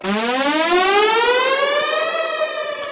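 Synth riser transition effect with the filter turned off, noise and chord oscillators muted: a rich buzzy tone gliding steadily upward in pitch, loud and sustained throughout, with no voices.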